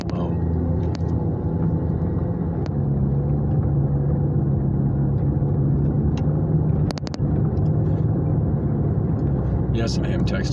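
Steady, loud low rumble of road noise and engine from inside a car driving along, continuous throughout with a few brief clicks and knocks.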